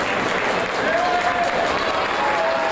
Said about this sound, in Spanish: nuestros sinceros aplausos.